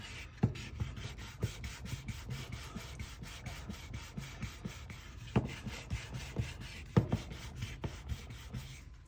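The edge of a leather wallet is sanded with 800 grit sandpaper. Quiet, steady back-and-forth rubbing strokes repeat in a fast, even rhythm, close to the mic, with a few louder scrapes and no talking.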